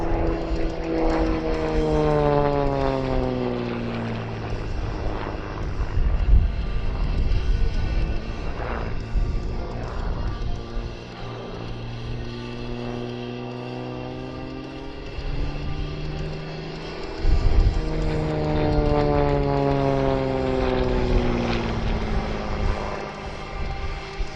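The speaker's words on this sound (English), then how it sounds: "he is going to be putting 3 consecutive snap rolls at the top of this avalanche" An XA41 (S-300) German single-seat aerobatic propeller aircraft flies a display at Shuttleworth, its engine droning loud with rising and falling pitch sweeps as it pulls through consecutive snap rolls, alone without talk.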